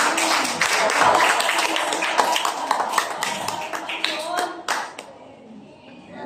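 Church congregation applauding during a Sunday sermon, a steady dense clapping that fills the first five seconds before thinning out and fading, with a voice heard speaking over it.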